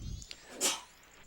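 A single short sneeze bursts out near the middle of the moment, sharp and fairly close, with faint low rumble before it and quiet afterward.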